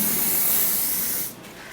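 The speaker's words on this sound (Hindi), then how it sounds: "और इसके ऊपर स्प्रे कर लेंगे पहले हम।" Hairspray hisses from an aerosol can onto styled hair in one steady, close burst of about 1.3 seconds, then cuts off abruptly into quiet.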